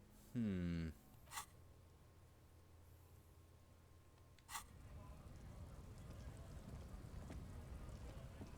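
Rain falls in the video game Disco Elysium, a low steady patter that grows louder in the second half, broken by a brief tonal game sound at the start and two short clicks.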